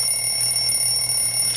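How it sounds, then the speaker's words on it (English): Alarm clock ringing on a school morning, a loud, steady electronic tone with sharp high harmonics that holds unbroken throughout, close and alone without talk. "I've snoozed my alarm twice"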